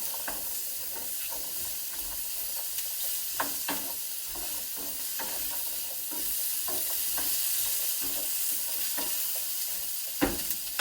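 Squash and browned mushrooms fry in a pan for risotto with a steady bright sizzle, broken by frequent sharp clicks and scrapes as the pieces are stirred, close and moderately loud with no talking.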